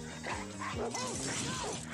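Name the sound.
dog barking in film clip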